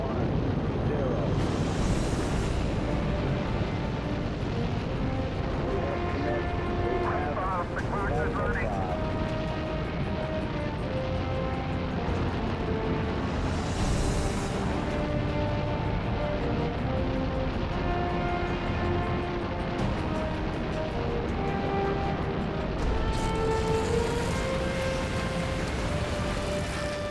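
Apollo 8's Saturn V rocket engines roar at launch, a loud, sustained, crackling rumble that fills the whole clip without letup, with faint radio voices underneath.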